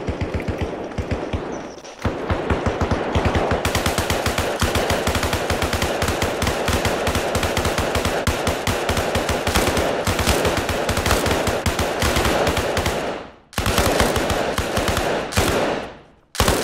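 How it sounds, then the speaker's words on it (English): Rapid machine gun fire in Arma Reforger, a dense string of loud, close shots running almost without pause for most of the stretch, with a brief break near the end before firing resumes. "Should use a burst fire, so like we go in small bursts, but not fully automatic."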